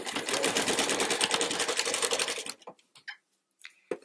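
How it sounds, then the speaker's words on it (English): A sewing machine stitches a quarter-inch seam along quilt binding, running steadily and loud with a dense rapid needle rhythm for about two and a half seconds, then stops, leaving a few faint clicks and handling noises. "I'm gonna sew this 1/4 inch seam."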